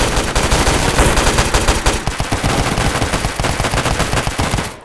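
Rapid automatic gunfire from the mobile shooter Hazmob FPS, loud, dense overlapping bursts running nearly unbroken for about five seconds before cutting off.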